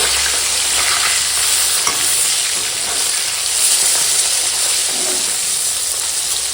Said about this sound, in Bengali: মাছগুলো ফটাফট ভাজি